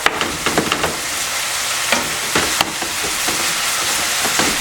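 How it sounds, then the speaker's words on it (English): Minced meat frying and sizzling in a pan, a steady close hiss broken by scrapes and taps of a utensil stirring and mashing the meat. "We just want to keep cooking this until our meat is done, nice and brown."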